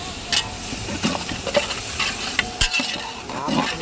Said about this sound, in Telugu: తిప్పుతూ ఉండాలి, ఎందుకంటే అడుగును మాడకుండా.